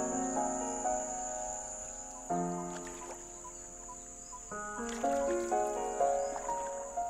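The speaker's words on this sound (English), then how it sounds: "just listen how the rainforest awakens" African rainforest at dawn, heard from a dugout log boat on a river: dense, steady insect chirring and buzzing layered with clear, tonal calls that keep entering in overlapping phrases, close and lively, with no talk.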